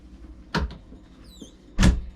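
Drawers and cupboards opening and closing inside a Prevost Liberty motorcoach, two distinct close thuds with a soft sliding scrape between them and a faint squeak, no talk.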